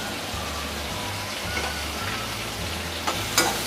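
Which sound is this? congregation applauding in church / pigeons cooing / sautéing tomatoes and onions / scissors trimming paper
sautéing tomatoes and onions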